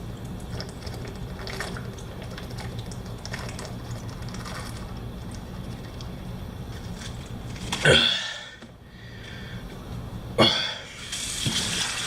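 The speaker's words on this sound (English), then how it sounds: "I always gotta rinse my mouth out though, because I hate aftertaste of all stuff like that." Someone rinses their mouth with water at a running tap, a steady close hiss of flowing water broken near the end by two short splashing spits.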